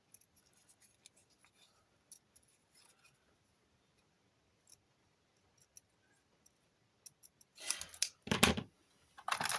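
Scissors snip through paper in a few quick, crisp cuts near the end, following a stretch of faint scattered clicks in near silence.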